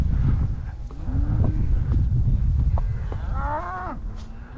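Cattle on a ranch during sorting of cow and calf pairs, with several drawn-out moos, one rising louder near the end, over heavy wind rumble on the microphone.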